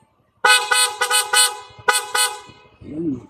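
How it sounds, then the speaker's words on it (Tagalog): A PIAA horn fitted to a Kymco Xciting S 400i scooter blasts in several loud, rhythmic toots with short gaps, followed by a brief voice at the end. "PIAA horn."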